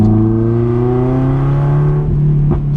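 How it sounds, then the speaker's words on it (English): A loud car engine holds a high rev with a droning tone, then drops off, with a couple of sharp pops near the end. "So loud, awesome backfires."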